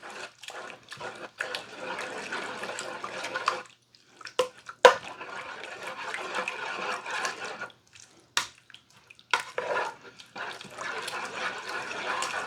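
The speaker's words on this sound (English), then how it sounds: "So we're gonna take that flour and butter now and drop that right in and stir till it's dissolved." Flour and butter roux being stirred into liquid in a Ninja Combi cooker, giving a wet sloshing, swirling sound in bursts broken by short pauses and a few sharp knocks, close and without talking.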